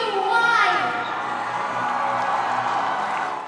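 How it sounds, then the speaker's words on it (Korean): A crowd on the red carpet at the Busan International Film Festival greets actor Tony Leung with loud cheering and high-pitched shouts. The noise peaks early, then holds as a sustained roar. "레드카펫에 등장하자 관객들은 환호와 박수로 아시아 대표 배우를 환영했습니다."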